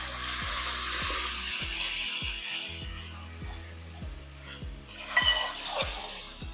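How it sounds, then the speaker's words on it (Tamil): Ground tomato paste fries in oil with browned onion and garlic for a fish gravy, giving a loud, continuous close sizzle. A regular low mechanical ticking runs beneath it, and a few stirring scrapes come toward the end. "இது நல்லா வதங்கட்டும் இந்த எண்ணெய் பிரிஞ்சு வர வரைக்கும் அந்த தக்காளி வந்து நல்லா வதங்கணும்"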